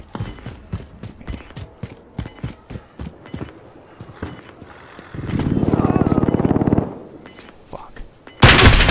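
Rapid bursts of gunfire crackle in a Call of Duty Modern Warfare hardcore team deathmatch: sharp repeated shots, then a dense sustained automatic stream, and a loud blast at the end.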